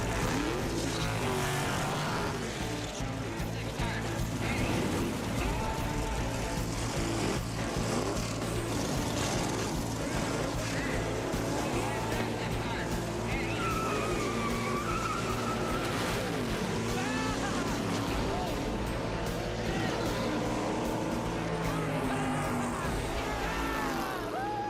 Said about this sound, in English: I can't wait to take this car down the track.